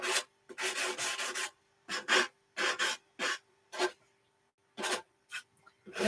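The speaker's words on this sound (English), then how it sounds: "I'm going to lighten those dark spots out with a little bit" Rough rasping strokes of sanding dark spots on a painted surface, repeated in uneven bursts with short pauses between, close by and fairly steady in loudness.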